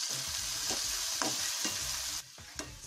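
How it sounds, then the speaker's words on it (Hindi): Ginger and garlic sizzling in a hot pan as about a tablespoon of soy sauce is stirred in for a spicy red momo chutney, a continuous bright fry with repeated scraping stirs, close and alone. "अब मैं इसमें अपना सोया सॉस ऐड करूंगी जो मैंने 1 टेबलस्पून के करीब लिया था, और इसे भी जिंजर गार्लिक के साथ मिक्स कर लूंगी"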